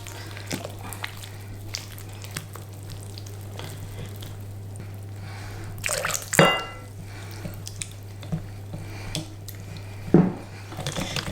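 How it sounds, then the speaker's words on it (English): Samosa batter of flour and water being stirred in a bowl, wet sloshing and scraping with occasional sharper knocks of the utensil against the bowl, close and irregular. "I'm going to mix it like we are making pancake"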